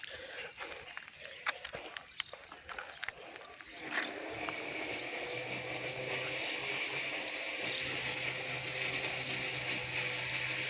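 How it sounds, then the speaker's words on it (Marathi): Water gushes out steadily onto a newly levelled murram platform on a farm, a continuous broadband rush starting after a few seconds of scattered clatter and staying loud to the end. "सगळे वट्ट्यावरती पाणी सोडूया"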